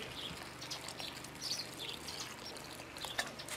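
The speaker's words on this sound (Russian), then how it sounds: "Добавляю еще грунт и поливаю." Water poured onto dry potting soil around a golden pothos plant makes a soft, faint trickle, with light bird chirps in the background.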